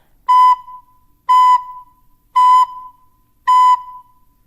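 Four identical short recorder notes, all B, evenly spaced with silent gaps between them, bright and close.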